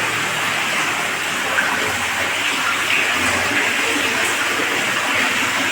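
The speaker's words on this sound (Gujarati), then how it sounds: "પેલો દરમાં જોરદાર પાણીની આવક થઈ ગઈ ભાઈ." Water gushing at full pressure from a borewell pipe into an open well, a loud continuous rushing roar that stays steady throughout without pauses.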